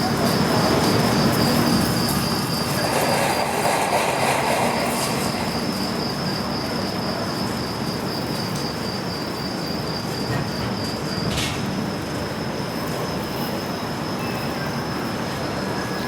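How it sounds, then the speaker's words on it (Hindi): The Ajanta Express passenger train pulls out of Basar station in India, giving a steady, loud rolling rumble heard from on board, with a thin, high, insect-like whine running over it throughout. "हमारी ट्रेन निकल चुकी है बासर से"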